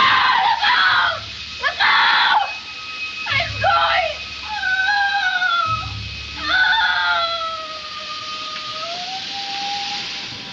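A film clip of the Wicked Witch of the West from The Wizard of Oz screaming, several loud, shrill wailing cries in bursts, with drawn-out, wavering shrieks and brief pauses between them.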